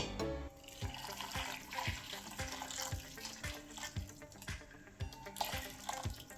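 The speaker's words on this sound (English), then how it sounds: "Hot water. Don't worry, I'm just washing my spoon." Hot tap water runs steadily into a sink while a spoon is rinsed under it, with faint regular knocks and clinks through the continuous splashing.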